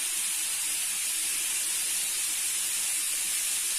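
Onion and chicken frying in oil in a pan, a loud, steady, bright sizzle with an unbroken hiss and no pauses.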